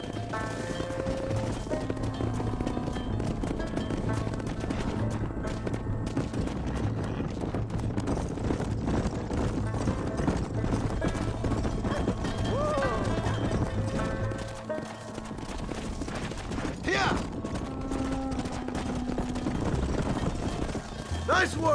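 Horse hooves clopping in the Western video game Red Dead Redemption, a steady run of hoofbeats under continuous game ambience, music and occasional voices.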